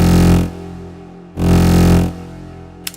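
A synth built from three wavetable oscillators with ring and phase modulation, feedback and wave shaping plays two loud, buzzy sustained notes separated by a short gap, followed by a faint click.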